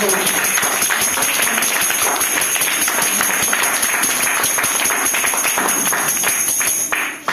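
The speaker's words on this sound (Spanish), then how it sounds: "¿Pueden dar palmas a Cristo?" A Spanish-speaking church congregation claps for Christ during a service, the dense, loud clapping continuing steadily until it breaks off at the end.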